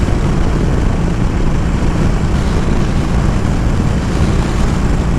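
A Harley-Davidson Sportster Iron 1200 motorcycle at nearly 4,000 RPM in fourth gear at 75 mph on a 115-degree day: a loud, constant engine drone under heavy wind rush, with no break.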